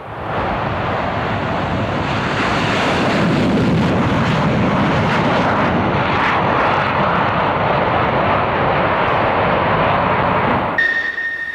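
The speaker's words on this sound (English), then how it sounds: "F-4 Phantoms from the Greek Air Force." Greek Air Force F-4 Phantom jets flying past at a 1994 D-Day 50th anniversary flypast, a loud, sustained roar that builds and rolls on for several seconds with wind buffeting.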